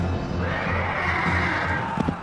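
A horse whinnies in a long, loud neigh that rises and holds for over a second over a rumbling battle background, followed by a few short snorts.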